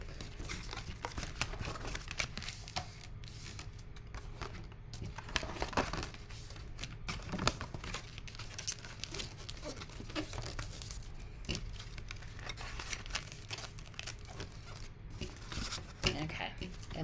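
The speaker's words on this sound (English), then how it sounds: "Now I'm just going to fold these over." Paper cards being folded over to form a box base make soft crinkles and creases close by, a steady rustle running under a person talking.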